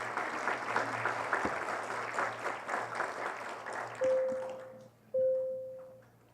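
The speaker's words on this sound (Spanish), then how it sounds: "Aquí recibimos con un fuerte aplauso." A crowd claps in steady applause that fades out after a few seconds, followed by two sustained electronic ping tones.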